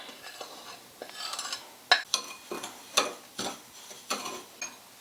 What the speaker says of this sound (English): into the sugar I'll mix the cinnamon powder and the ginger powder